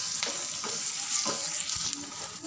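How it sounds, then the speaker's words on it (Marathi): Onion frying with salt in a pan, browning, giving a continuous bright sizzle with a few scraping stirs of a spatula, close and steady, no talking. "छान आपण ब्राऊन करून घेऊया कांद्याला।"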